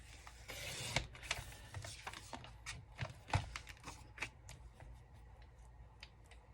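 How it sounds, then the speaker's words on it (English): Paper is trimmed with a craft cutter at a crafting table, producing a quiet series of crisp clicks, snips and short scraping strokes at an uneven pace, close up and without talk. "I'll just cut it quickly with my cutter."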